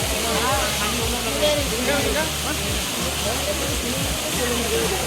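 A waterfall rushes in a continuous, loud broadband roar close by, steady throughout with faint voices underneath.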